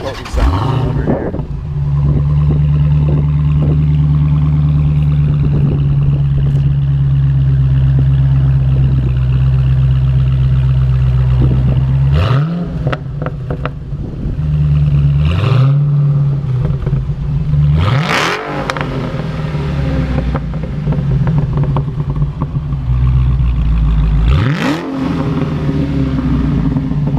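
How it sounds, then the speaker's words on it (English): Exhaust of a 2015 Dodge Challenger SRT Hellcat, a loud steady engine roar held for a long stretch, then several sharp revving blips that rise and drop back, close by with no talk. "Now we're going to hear this exhaust, which has got to be one of the most potent sounds you'll ever hear."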